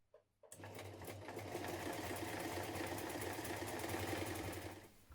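A sewing machine stitches a buttonhole near the top of a pyjama-bottom front piece, a close, fast, steady rattling whir starting abruptly and running nearly five seconds before stopping.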